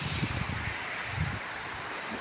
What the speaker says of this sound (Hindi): पत्ते उड़ रहे हैं कितना